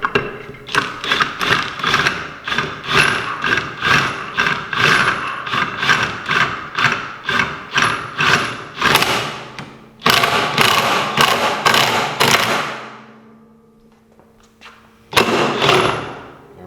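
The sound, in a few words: drill loosening screw of governor cup, Can-Am X3 clutch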